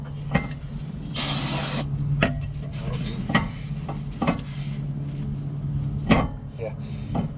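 Spray cleaner hisses in one sustained burst of about a second onto the backside of a car part during a mobile mechanic's repair, over a steady low hum with scattered knocks and handling sounds.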